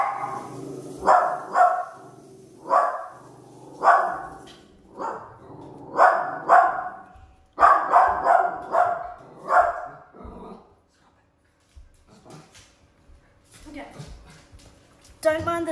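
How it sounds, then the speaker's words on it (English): A dog barks repeatedly in spaced bursts, close and loud, through the first ten seconds before going quiet, with a person talking briefly near the end. "She's being That's a dog."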